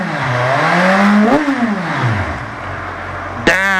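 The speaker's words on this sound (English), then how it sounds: "Even with the stock exhaust, it sounds so sweet." A Kawasaki Z1000 motorcycle engine with stock exhaust revs up, drops back down to idle, then snaps into another sharp rev, loud and close.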